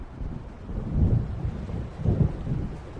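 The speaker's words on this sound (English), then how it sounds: "It seems there's a storm coming." Rolling thunder of an approaching storm in the video game Alan Wake Remastered, a deep low rumble swelling twice over a few seconds with wind and rain hiss beneath, fairly loud and with no voices.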